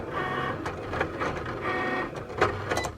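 A Cricut Explore Air 2 cutting machine whirs steadily as it cuts a circle, its motor drone broken by brief carriage movements and small mechanical ticks, close and continuous with no talking.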